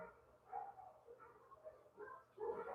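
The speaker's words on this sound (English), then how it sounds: "It's dinner time, which is probably why they're barking." Dogs bark and whimper at dinner time, faint and somewhat distant, in several short uneven bursts over a low background murmur.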